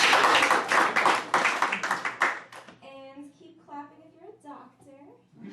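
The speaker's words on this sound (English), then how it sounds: "So, clap if you're single." Audience at a Hollywood stand-up comedy show claps in a loud, dense burst for about two and a half seconds, then fades out as a voice starts talking.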